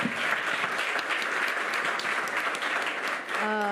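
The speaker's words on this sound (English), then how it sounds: "Can you please just give them a big round of applause one more time?" An audience at a live panel dialogue event gives a big, sustained round of applause, steady and full throughout, with a voice starting to speak over it at the very end.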